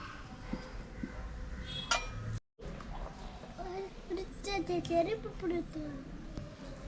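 Metal utensils scrape and clink against a pot while mutton dum biryani in the Thalasseri style is mixed, with several light irregular clinks under ongoing talk and a voice.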